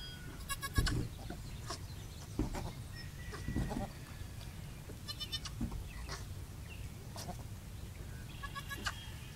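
A goat doe bleats at a kidding with a newborn kid nearby, giving several separate cries spread across the clip over a noisy farmyard background.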